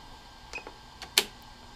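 Payload being loaded into a Phantom 4 drone drop system: a few small clicks and taps of plastic parts, then one sharper click, close and quiet with no talk.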